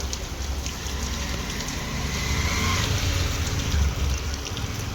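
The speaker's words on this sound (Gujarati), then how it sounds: "કેમનો જાઉં આ ભયાનક વરસાદમાં" Steady rain pours down outside a home during a monsoon downpour, a continuous broadband hiss with low rumbling, holding at an even, fairly loud level throughout with no speech.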